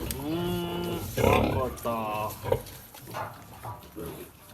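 Piglets squeal and grunt in a crowded market, with high-pitched overlapping squeals near and loud, and people talking in the background.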